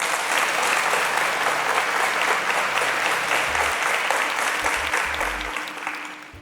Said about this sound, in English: Please, a round of applause for Deborah